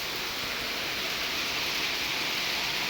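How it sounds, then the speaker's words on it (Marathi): Heavy rain falling steadily, a dense unbroken hiss of downpour with no distinct drops, even and moderately loud from start to finish. "कसं चाललाय पाऊस"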